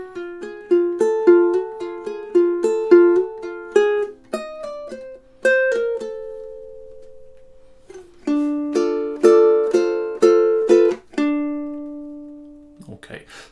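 Ukulele picks a short melodic passage from the Goosebumps theme, crisp plucked notes in repeated rhythmic groups with a few held notes and brief pauses, played alone and close.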